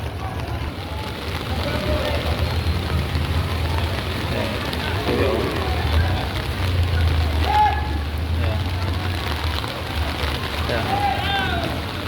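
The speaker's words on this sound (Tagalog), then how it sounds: "Lalo pang lumalakas ang ulan no." Heavy rain pours steadily at an outdoor cattle market, a dense constant hiss with low rumbling underneath, while voices talk faintly beneath it.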